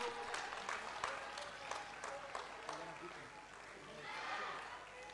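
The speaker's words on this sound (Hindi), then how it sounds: "ताली बजा के स्वागत करिए इनका" Audience applauding wrestlers at a stadium during a sports event in Lucknow, a steady spread of clapping from a crowd at a moderate distance, fairly faint and continuous throughout.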